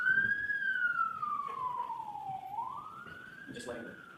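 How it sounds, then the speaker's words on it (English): A siren wails nearby outside a murder trial courtroom, its pitch sliding down slowly and then rising again, over faint background noise. "I'm just letting the siren go on."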